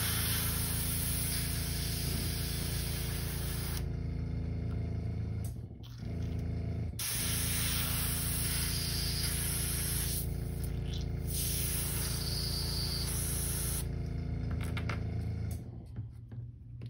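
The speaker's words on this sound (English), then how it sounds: "Clean this out of my airbrush." An airbrush sprays steady bursts of paint and air while being cleared out between colors on a custom crankbait, a continuous loud hiss with short pauses near the start and toward the end.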